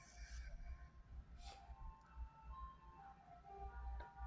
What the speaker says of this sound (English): You hear the ice cream truck?